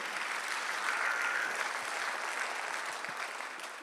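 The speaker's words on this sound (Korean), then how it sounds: "박수를 하나 드리시기 바랍니다" Church congregation applauding during a Sunday worship service, a steady, dense wash of many hands clapping at once that holds at an even level for several seconds and tapers off slightly at the end.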